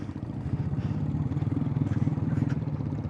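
A motorcycle rides over rough, bumpy terrain in Sri Lanka, its steady mid-pitched engine drone close and loud, overlaid with rhythmic rattling and clatter from the uneven ground.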